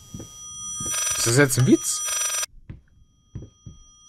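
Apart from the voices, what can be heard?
telephone ringing in video game Layers of Fear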